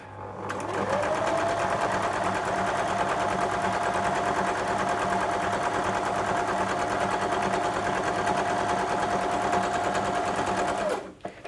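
A sewing machine runs steadily for about ten seconds stitching two seams on an Ohio Star quilt block, a close, even mechanical whir that starts and stops abruptly, with no talking over it.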